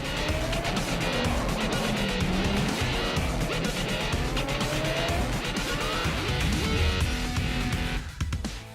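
Race cars in the free-to-play racing game World of Speed roar continuously with loud engines, squealing tires and skids, a dense unbroken wall of racing noise that drops away abruptly at the very end.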